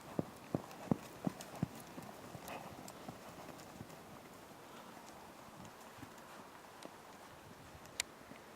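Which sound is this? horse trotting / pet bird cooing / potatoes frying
horse trotting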